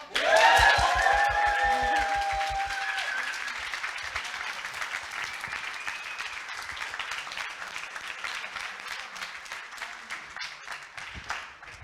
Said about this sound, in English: Can we also get a big round of applause for the Le Wagon team?